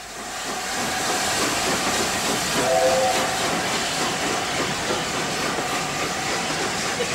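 An LNER steam locomotive pulls away beside the National Railway Museum, a steady loud hiss and rumble of steam and wheels with a brief whistle tone partway through.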